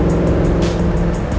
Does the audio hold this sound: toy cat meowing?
no